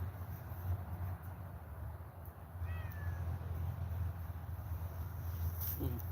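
A cat gives a single short meow in the middle of a livestream, faint over steady low background hum.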